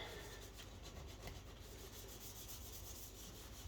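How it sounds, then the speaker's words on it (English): Deep scrubbing of a porous granite kitchen counter gives a soft, steady rubbing with faint rhythmic strokes, quiet and close, with no talking. "you're just going to start scrubbing up counters"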